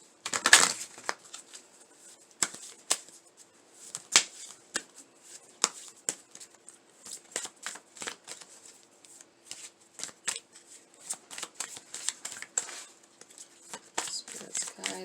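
Dark Mirror Oracle cards are shuffled up close in repeated soft riffling flutters and quick slaps. The irregular bursts continue throughout, with a faint steady hum behind them.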